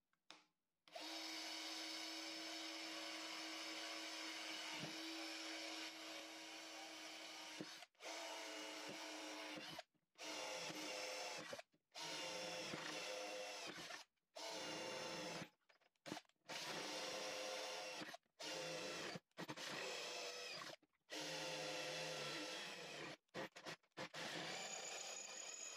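FERM Action drill driver boring into aluminium alloy with metal bits, running in repeated loud whining bursts separated by short pauses, close up with no talk.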